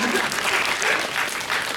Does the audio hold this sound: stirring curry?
no